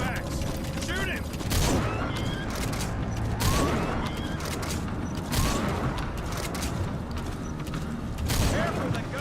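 Several loud gun blasts in Metal Gear Solid V ring out at irregular intervals, separated by mechanical clanks and rattling battle ambience.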